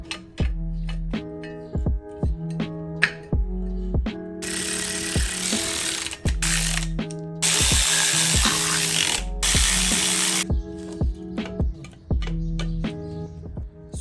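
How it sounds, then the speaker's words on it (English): A ratchet wrench torquing down bolts on the swing axle transmission of a 1967 VW Type 3 Squareback, with rapid clicking pawl strokes in repeated runs and louder grinding stretches, close up and without speech. "I'm gonna slide the tube back in and torque everything down"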